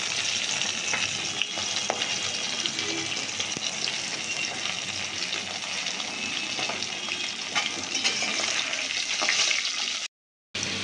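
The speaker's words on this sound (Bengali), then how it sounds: "দেখো আলুটাকেও কিন্তু আমি একদম ডিপ করে ফ্রাই করে নিচ্ছি" Potatoes deep fry in hot oil for a Bengali fish head and cabbage dish, a dense, continuous bubbling sizzle that stays loud and even for about ten seconds before a brief drop to silence near the end.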